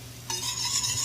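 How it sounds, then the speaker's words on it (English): Chopped red onions dropped into a hot pan burst into a loud, steady sizzle after a brief quiet start, frying close up with no talking. "Now, I'm going to take a pinch of red onions. Throw those in there."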